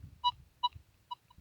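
A Gryphon metal detector sounding over a target near power lines gives four short, clear electronic beeps in an uneven rhythm, with a faint low rumble underneath.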